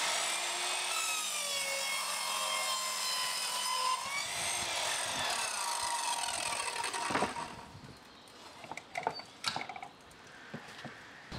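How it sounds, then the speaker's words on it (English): A hand saw cuts feather edge wooden fence boards to length, with a loud, close, steady rasping stroke sound for several seconds, then slower scraping strokes and knocks as the cut finishes. "I'm now going to cut the feather edge boards to the correct length"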